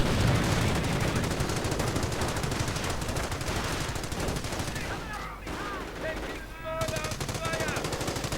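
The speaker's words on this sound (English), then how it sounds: "Heavy machine gun now out by HelpingHans" Heavy machine gun fire in the Company of Heroes war strategy game, with dense, rapid bursts rattling almost nonstop throughout, mixed with other battle noise.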